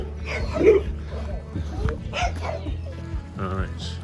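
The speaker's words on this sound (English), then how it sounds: "Oh, there's some pups." Dogs at a campground give a few short yips and woofs at moderate distance, scattered between quiet gaps while people talk nearby.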